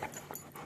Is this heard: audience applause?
no